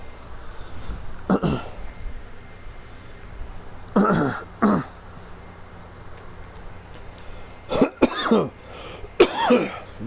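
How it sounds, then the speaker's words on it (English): A man coughs during a PS4 live stream of Red Dead Redemption 2, giving several sharp, close coughs and throat-clearing bursts in separate clusters against a quiet background. "Cough it out, baby."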